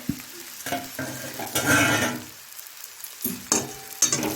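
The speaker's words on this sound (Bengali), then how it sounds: "দেখো আমার আলুটা ভাজা হয়ে গেছে, এবার মাছগুলো দিয়ে দেবো।" Fish added to fried boiled potatoes in a pan for a Bengali fish fry, with a continuous sizzle, bursts of louder frying and scraping, and utensil clinks against the pan.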